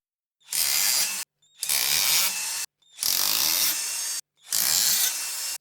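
Four bolts come out of a gear housing, heard as four separate bursts of loud, harsh whirring from a power tool, each about a second long with short silent gaps between them.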